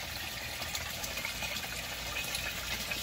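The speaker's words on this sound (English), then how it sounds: "the water flows through the effluent weir uh, holes" Steady broadband rush of water pouring through 48 half-inch effluent weir holes in a radial flow settling tank of a 100-gallon fish tank aquaponics setup, a constant close gush with no talk.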